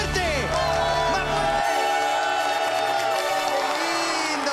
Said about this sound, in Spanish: ¡Aplausos, por favor, para Fran por su cumpleaños!